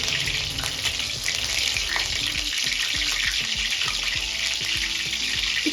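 Green chilies fry in hot oil for sabudana khichdi, a continuous loud hiss and sizzle close up with small crackles and stirring noises underneath.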